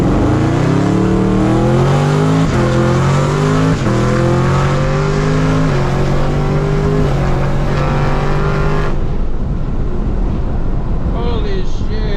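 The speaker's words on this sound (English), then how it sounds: "I'm gonna put it back in drive and I'm gonna floor it" A supercharged 800 hp Camaro ZL1 V8 at full throttle, loud and close from inside the car, revs climbing through repeated gear-shift steps before backing off, with wind roar and a few pops at the end.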